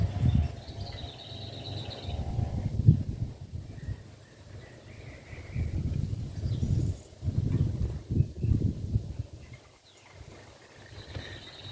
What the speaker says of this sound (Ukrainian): Ось послухайте, яка тут, який тут пташиний хор.